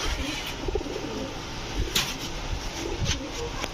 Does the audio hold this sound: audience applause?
no